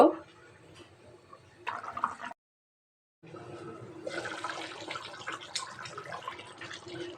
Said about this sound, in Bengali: এখন আমি অল্প করে একটু পানি দিয়ে দেব।